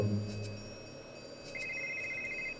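A telephone rings in the Hector: Badge of Carnage point-and-click adventure game, a steady electronic ringtone tone entering partway through over a low ambient game backdrop, with no speech.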